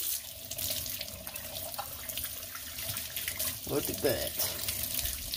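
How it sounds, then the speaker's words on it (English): Tap water running and splashing while a freshly cut agatized coral geode is rinsed, a steady close stream with a brief louder splash near the end, and someone speaks briefly over it. "we'll rinse this thing out."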